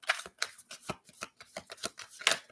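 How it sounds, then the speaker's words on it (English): A deck of cards being shuffled by hand, a quick run of crisp riffling flicks and slaps in an uneven rhythm, close and clear with no voices over it. "I'm just shuffling cards because I just want to add the energy into it."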